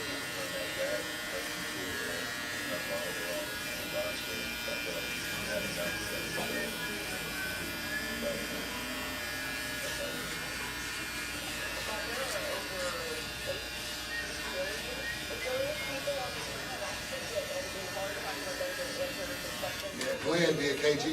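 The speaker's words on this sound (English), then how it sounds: "The foil shaver?" An electric foil shaver buzzes steadily and fairly quietly through the whole stretch while people talk over it, with a few louder bumps near the end.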